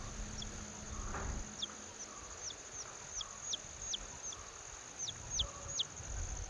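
Thin, high-pitched peeping chirps repeat irregularly, about a dozen short calls over a faint hiss and low background rumble.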